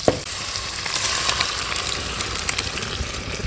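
Dried red chillies, onions, curry leaves and crushed garlic fry in hot oil for a tempering, sending up a loud, continuous crackling sizzle with scattered spits and pops throughout.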